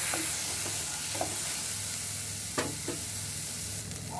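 Sliced ingredient frying in a pan for broad bean kurma, a steady low sizzle and hiss with a few faint scraping knocks of stirring, no voices.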